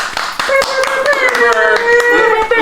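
A group claps for a birthday, with quick, uneven hand claps running throughout and voices calling out over them.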